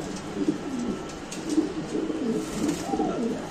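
Pigeons coo close by in low, rolling murmurs, a few calls overlapping over a steady background hum.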